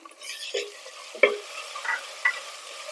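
Onions sautéing in oil in a pan for a Karaikudi paruppu urundai kuzhambu: soft intermittent scrapes and stirring strokes over a faint sizzle, quiet and close, with a few sharper clicks of the spoon.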